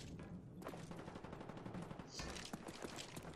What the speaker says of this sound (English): FAMAS tries to kinda act like a SMG with its high rate of fire